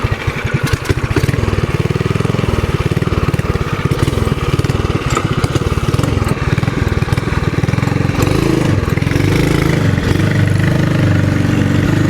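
A TrailMaster MB200 mini bike with an aftermarket exhaust runs close and loud, its small engine putting out a raspy, uneven putter that settles into a steady idle with small throttle swells, and nobody talks over it.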